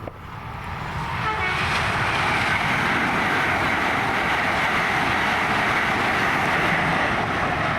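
Light engine locomotive 66720 rolls past at Fenwick crossing, a steady loud rumble that swells within the first second and holds close, with a brief horn near the start.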